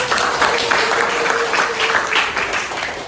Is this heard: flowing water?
no